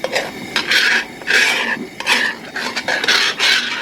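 Scrambled eggs being stirred in a pan at a campsite, repeated scraping strokes of a utensil across the pan surface in an uneven rhythm, close and fairly loud.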